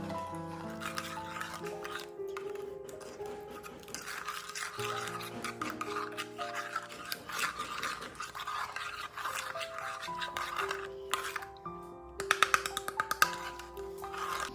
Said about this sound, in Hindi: इसको अच्छे से मिक्स करेंगे अभी हम